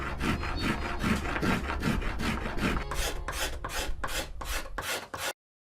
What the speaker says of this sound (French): Le même travail est effectué sur le front, mais avec une lame de rabot à dents pour éviter l'arrachage du bois.